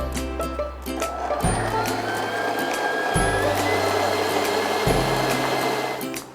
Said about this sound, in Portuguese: Agora é só bater em velocidade média por cerca de 5 minutos, até que essa mistura forme um creme esbranquiçado bem cremoso.